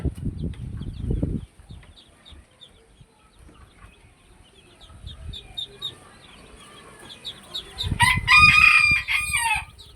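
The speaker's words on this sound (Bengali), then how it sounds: "এখানে চায়না মুরগি আছে ছয়টা বাজার থেকে কিনে নিয়ে আসছিলাম" Chickens cluck softly around a home poultry farm, including a small flock of store-bought hens, before a rooster crows loudly up close near the end, with a few wing flaps and brief human voices at the start and end.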